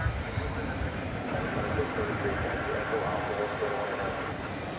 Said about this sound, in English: Another UPS aircraft that just snuck in on us here.